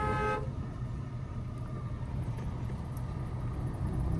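A car horn blares briefly at the start, then a steady rumble of an engine and road noise continues.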